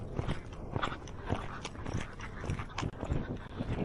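An Arabian horse walks through the desert sand in Dubai, its hooves landing in soft, muffled, evenly spaced thuds, close by and continuous, over light outdoor background noise.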